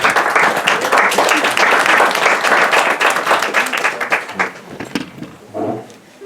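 An audience at an Armenian studies lecture applauds steadily with dense clapping for several seconds, then the clapping thins and fades as a voice begins speaking.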